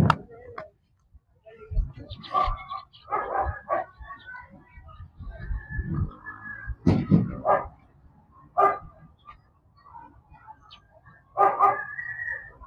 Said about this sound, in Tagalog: May ibang aso dito na ano, nakatahol